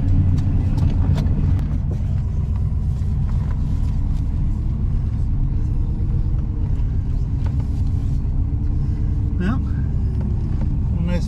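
A 1970 Rover P6 3500S drives along with a steady low engine rumble and road noise heard from inside the car, continuous throughout, with a voice talking over it.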